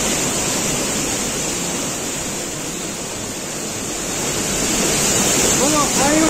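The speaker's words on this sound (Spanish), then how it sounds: "hemos llegado a la cascada" Roughly 20-metre waterfall in Loja, Ecuador, pouring as a dense, constant roar of rushing water, loud and close, with a faint voice in the background toward the end.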